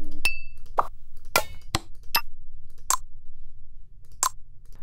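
A few sparse, hollow percussive knocks with a mouth-like, vocal tone, spaced irregularly and standing alone against silence.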